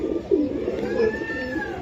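A racing Giribaz pigeon coos in soft, low, rounded pulses, two or three close notes over a faint background hum, heard alone without speech.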